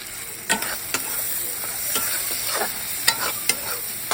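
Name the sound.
frying leafy greens in oil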